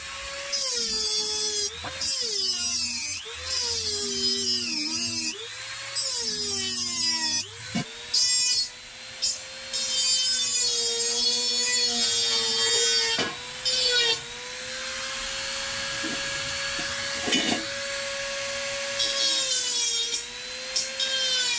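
Dremel rotary tool cutting into wood at a workbench, a high whining grind that shifts pitch as it bites and eases, steady and close with brief pauses and no talk.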